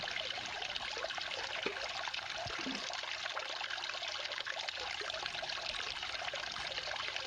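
Water rushes continuously through a sluice box with riffles, a steady broadband splashing and trickling flow at close range with no pauses.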